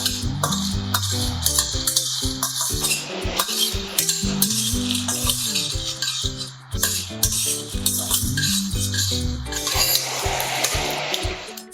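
Fennel seeds, cumin, Kashmiri chillies and dried red chillies are dry-roasted together in a pan, with a utensil scraping and clattering steadily over a soft sizzle at close range.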